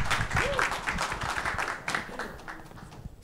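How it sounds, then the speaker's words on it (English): Applause from the audience at a startup pitch competition semi-final, a busy patter of clapping that fills the clip with voices and a brief whistle mixed in, tapering off near the end. "Applause, guys."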